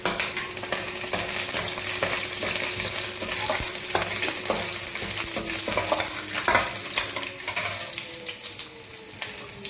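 Curry leaves sizzle and crackle in hot oil in a pan, a steady close frying hiss with scattered pops and stirring clatter, while preparing a traditional Marathi buttermilk ukad.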